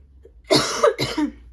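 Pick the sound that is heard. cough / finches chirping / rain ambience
cough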